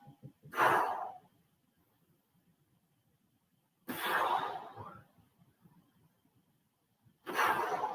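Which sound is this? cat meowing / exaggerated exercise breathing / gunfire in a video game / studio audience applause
exaggerated exercise breathing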